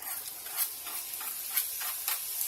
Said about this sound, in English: Melt the butter and then add the chopped onions